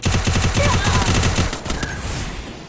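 Rapid automatic gunfire from the video game Free Fire rattles in a fast, loud burst that fades into scattered lighter shots and game ambience.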